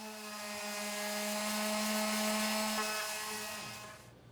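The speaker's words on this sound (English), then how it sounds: "For this piece, I'm using 80 grit sandpaper and an orbital or vibrating sander." An orbital sander with 80 grit sandpaper works over the surface of a wooden outdoor chair, giving a loud, steady motor whine and buzz that holds throughout, then fades near the end.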